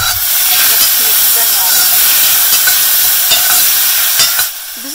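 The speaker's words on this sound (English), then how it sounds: "The mustard seeds are spluttering, so I'm going to add the chopped tomatoes and 1/8 teaspoon of turmeric" Chopped tomatoes go into hot oil with spluttering mustard seeds, giving a steady, loud hiss and sizzle with a few sharp crackles; the sound drops off abruptly near the end.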